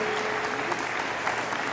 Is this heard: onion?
no